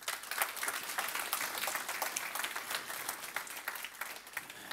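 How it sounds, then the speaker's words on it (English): A conference audience applauds its four sponsors with a quiet, distant patter of many hands clapping steadily, with no voices standing out. "So big applause for the 4 sponsors"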